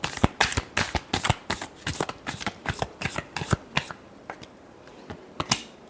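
A deck of tarot cards being shuffled by hand, a rapid series of crisp riffling snaps and flutters in irregular bursts, close and clear with no voices.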